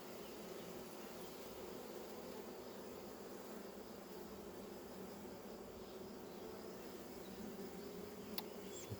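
Honeybees hum steadily inside a recovered swarm hive, a continuous faint buzzing drone with no voices, one brief click near the end.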